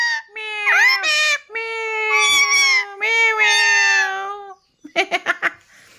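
A pet talking parrot imitates a cat's meow with several drawn-out, wavering, high meow-like calls, close and loud, ending in a quick run of short chirps.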